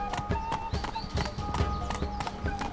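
Horse hooves clip-clop in the video game The Witcher 3, a quick, even trotting rhythm of sharp hoof strikes, close and clear, with faint background game ambience.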